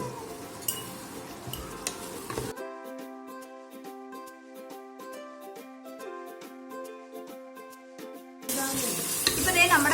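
Onions sautéing in ghee and oil with a little salt for chicken biryani, stirred in a pan with soft sizzling and clinks of a spoon against metal, close up; a faint tonal hum fills the middle stretch.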